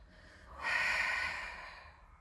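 A single breath drawn in during an intermediate Pilates exercise with a magic circle, a soft airy inhale of about two seconds that swells and then fades, close and alone with no talking.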